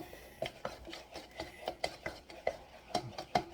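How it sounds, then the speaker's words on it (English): A spoon scrapes and stirs scrambled eggs in a pot taken off the heat, giving a steady run of close, soft scraping strokes about twice a second with light clinks against the pot. "take it off the heat and keep stirring"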